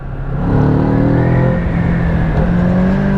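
A Kawasaki Z650 motorcycle engine drones loudly and close while riding, its pitch climbing as the bike accelerates through a gear, with steady wind rush underneath and no talking.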